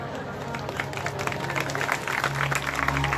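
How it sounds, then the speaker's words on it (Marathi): Audience applause with a grandmother clapping along, at a devotional Bhagavat katha discourse, rapid, dense clapping sustained throughout, mixed with a murmur of voices and a steady low hum. "टाळ्या कोणी वाजवल्या? आजींनी वाजवल्या."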